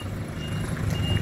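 A truck carrying refrigeration equipment reverses into a narrow space, its steady reversing beeps sounding over a low engine rumble in a brief stretch.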